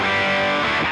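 Electric guitar played through the distortion mode of a Mezzabarba Even Drive pedal, a brief loud sustained chord full of dense saturated harmonics, heard alone with no talking.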